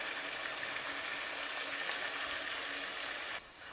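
Garlic frying in masala in a pan, a steady broadband sizzle that runs without a break and drops abruptly near the end.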